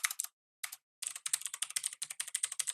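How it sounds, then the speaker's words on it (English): Typing on a computer keyboard to enter a domain name while setting up a VPS proxy server: two short bursts of keystrokes, a pause, then a rapid steady run of close, crisp clicks, with no voices. "then I'm going to type my domain name"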